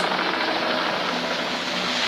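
A military helicopter from a short film, its broadband rotor and engine roar steady and loud throughout, with no talk over it.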